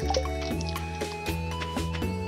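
Crops being watered in Stardew Valley, a run of short watery splashes and drips repeating about every half second over a soft, steady game music backdrop.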